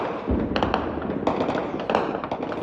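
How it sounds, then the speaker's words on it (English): Gunshots crack through Goma, a large city in the Democratic Republic of Congo, as a rapid scatter of sharp reports and thuds ringing out at a distance and echoing off buildings. "Gunshots echo through Goma, one of the largest cities in the Democratic Republic of Congo"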